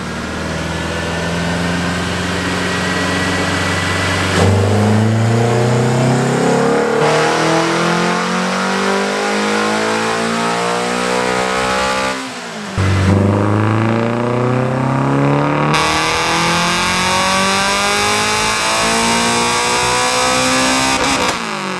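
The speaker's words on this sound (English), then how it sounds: "listen to this VTEC right here" A Honda VTEC car engine revs hard on a dyno and climbs in pitch, drops back, then screams up again through high revs, loud and close with no talking.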